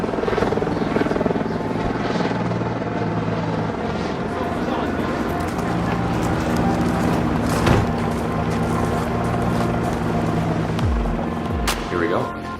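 A helicopter's rotor and engine roar loud and continuous from close by, with a rhythmic thumping buzz and people talking over it.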